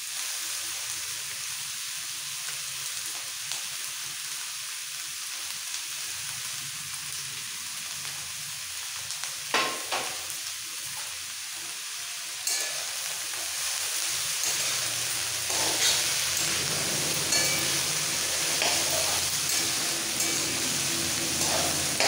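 Chopped beans and cabbage frying in oil for pav bhaji, a steady hiss of sizzling that grows louder partway through as the vegetables go in, with a few clatters and no talk.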